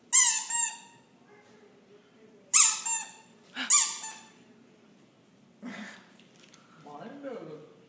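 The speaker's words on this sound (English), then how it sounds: "How'd your nose get so squeaky?" A squeaky toy-like nose gives short high-pitched squeaks when squeezed, in separate bursts of one or two, close and fairly loud, with quiet gaps and voices talking in between.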